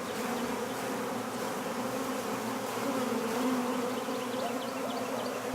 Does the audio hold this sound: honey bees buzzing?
yes